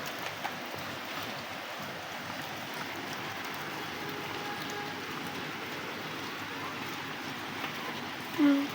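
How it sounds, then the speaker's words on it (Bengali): Steady, even hiss of rain falling outside, continuous and moderately distant, with a brief louder bump right at the end. "কত সুন্দর বৃষ্টি হচ্ছে বাইরে"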